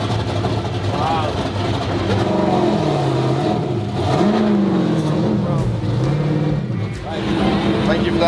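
Someone's drift car accelerates at a drift party, its engine revving and wavering up and down loudly while people talk over the noise.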